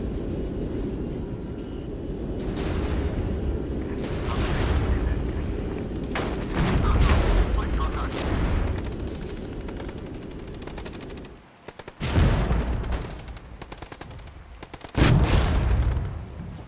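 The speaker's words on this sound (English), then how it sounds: "The rockets coming in." Incoming rocket barrages in the Cold War strategy game Regiments, with heavy rumbling blasts and rattling gunfire building to loud impacts, then short gaps and a second burst of booms.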